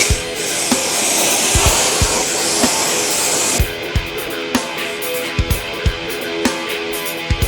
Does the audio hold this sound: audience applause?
no